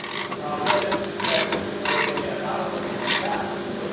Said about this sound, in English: I stick the wrench, the box end inside, and the ratchet on the outside, and you just go until it's snug